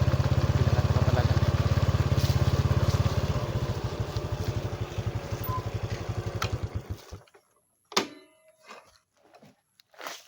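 A motorcycle engine idles loud and close with a steady low throb, then trails off and cuts out about seven seconds in, leaving quiet thumps and faint clatter.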